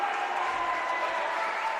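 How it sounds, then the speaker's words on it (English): Basketball crowd at a New Hampton School versus St. Thomas More high school game claps and roars in a gym, a dense, loud, sustained wash of applause and cheering filling the short moment. "Crowd is loud. They're all clapping."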